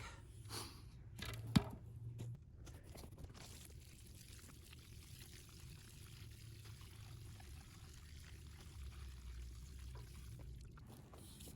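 Water is poured onto the soil around a newly planted tree, a quiet, steady trickle that runs on for several seconds, with a single sharp tap near the start.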